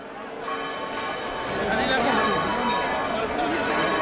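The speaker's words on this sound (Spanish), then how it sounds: "y siguen sonando las campanas de la Basílica" Bells of the Basilica del Pilar in Zaragoza peal continuously in the distance during the flower offering on 12 October, beneath the murmur of a large crowd and an announcer's voice.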